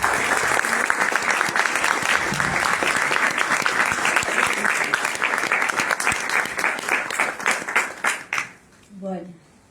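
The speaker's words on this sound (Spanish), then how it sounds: "Con un cálido aplauso." Warm applause from an audience greeting a guest, dense continuous clapping that thins out and fades in the final seconds as a voice begins to speak.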